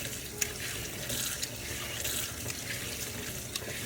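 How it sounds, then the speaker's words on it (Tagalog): Kitchen tap water runs in a steady, hissing stream over a peeled carrot being rinsed, with a few faint splashes and drips against the sink and no talking. "binalatan ko na rin habang pinapadaluyan ng tubig"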